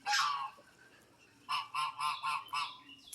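Geese on a farm honk loudly: one call at the start, a quiet gap, then a rhythmic run of five close, nasal honks in quick succession.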